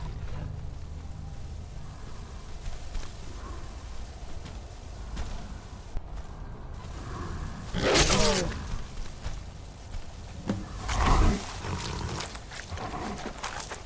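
Werewolf roar shout in Skyrim: a loud, harsh roaring blast around the middle, followed a few seconds later by a second rougher growling burst, both rising from a low steady game ambience.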